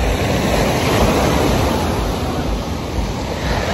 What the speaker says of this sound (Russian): Волны вот такие.